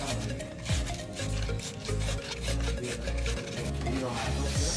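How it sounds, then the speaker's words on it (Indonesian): Sandpaper scrubbing rust from the inside of a brake caliper on a Yamaha Vixion motorcycle, a steady rasping rub that repeats in quick back-and-forth strokes, close and moderately loud for the whole stretch with no talk. "Dalamnya ada karat, kita amplas bagian dalamnya"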